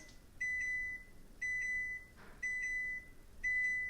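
An oven's control panel beeps as the temperature is set: four short, quiet electronic beeps evenly spaced about a second apart, with a faint background hum.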